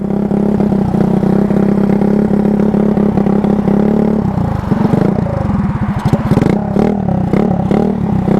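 A Honda Ruckus scooter engine that had sat unused for three weeks idles loudly and unevenly up close, a steady drone that drops into rough, stumbling, clattering firing as the throttle falters.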